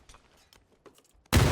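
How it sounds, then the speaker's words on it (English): Grenade blast in PUBG on console, a sudden loud explosion crashing in at the end after a stretch of quiet scattered clicks and faint game noises. "Throwing grenades at this guy."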